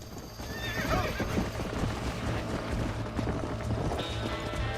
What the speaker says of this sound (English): é muito ruim de controlar o cavalo nesse aqui